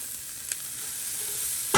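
Vegetables for a curry sizzling in a pan, a steady close frying hiss with a couple of brief scraping stirs.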